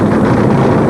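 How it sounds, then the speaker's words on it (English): A 1980 nitromethane funny car dragster engine idles with a loud, dense, steady rumble and roar, close and continuous with no talk over it. "The engine just sort of idling away."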